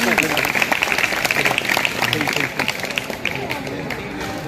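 Applause from an audience at a school Teacher's Day celebration, a busy patter of many hands clapping close by that eases slightly toward the end, with background voices underneath.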